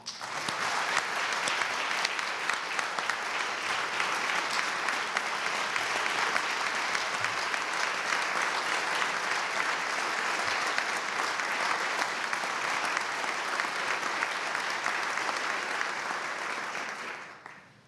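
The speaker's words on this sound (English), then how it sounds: "I hope you'll join me in a round of applause for our state workforce." Steady audience applause for the state workforce during Virginia's State of the Commonwealth address, a long unbroken wash of many hands clapping in a large chamber, then fading out at the end.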